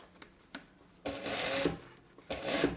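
A sewing machine stitches an invisible zipper in two short close bursts of rapid whirring, separated by a pause with light clicks and taps of handling.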